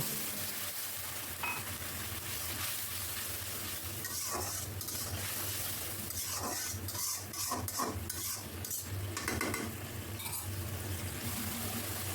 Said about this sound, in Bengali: পেঁয়াজের মধ্যে লবণ রসুন বাটা হলুদের গুঁড়া মরিচের গুঁড়া ধনিয়া গুঁড়া জিরা গুঁড়া দিয়ে সুন্দরভাবে মশলাটা কষিয়ে নিচ্ছি